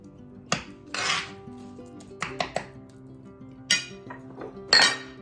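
Biryani ingredients being mixed in a pot, bright metallic clinks and scrapes of a spoon against the vessel arriving in scattered bursts over a quiet background.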